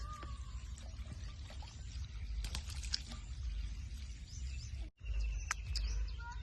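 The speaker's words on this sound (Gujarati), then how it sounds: "લીંબુડીમાં પાણી ધીમું ધીમું જાય" Irrigation water flowing slowly into lemon trees on a farm field, a continuous low trickle and pour with birds chirping intermittently in the background.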